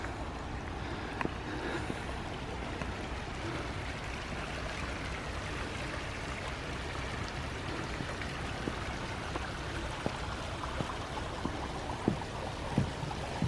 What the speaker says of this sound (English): here's the backside of water.